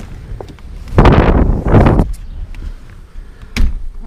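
Wind gusting outdoors during a bicycle tour ride, with two strong broadband bursts about a second long each, then a shorter gust near the end over a steady low rumble.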